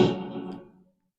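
Single synth stab from a techno track, a short distorted chord hit that decays and fades out within a second, heard alone.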